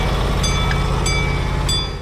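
A small train runs on its tracks with a loud, low, steady engine rumble and rolling noise, broken by a few brief metallic clanks at regular intervals, with no talking.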